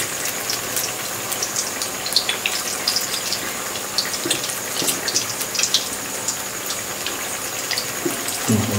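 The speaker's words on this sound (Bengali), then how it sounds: "এইবার এই কটা আমি ভেজে নিই আস্তে আস্তে।" Banana blossom chops fry in hot oil with a dense, steady crackling sizzle, many small pops scattered throughout, close and unbroken with no talk.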